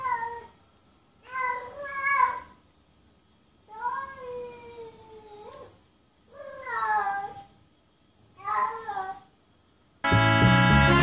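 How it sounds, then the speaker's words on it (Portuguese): A female cat in heat meows loudly and insistently, five drawn-out, wavering calls with short pauses between them, close and alone, ending in a burst of harsh noise. "Miam o tempo inteiro."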